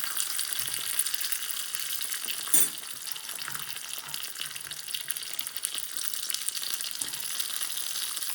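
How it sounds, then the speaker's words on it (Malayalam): Green chilli, onion and roasted gram sauté in a pan for chutney, giving a steady, close hiss of frying with a brief stir-like clatter early on. "ഒന്ന് സോട്ട്, ജസ്റ്റ് ലിറ്റിൽ സോട്ട് കേട്ടോ"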